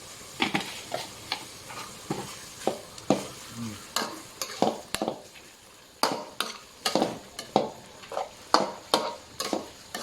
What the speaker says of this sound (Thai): ผัดให้อ่อนๆเลยนะครับหอมๆ